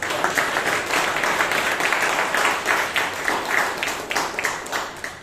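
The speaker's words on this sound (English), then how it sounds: "A round of applause for what she has done." Steady applause from a roomful of people, dense clapping sustained throughout at moderate volume.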